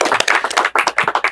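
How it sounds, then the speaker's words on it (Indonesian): A short burst of brisk clapping from a small group at an Islamic boarding school event, fast and uneven, loud and close. "Tepuk tangan dulu, tepuk tangan."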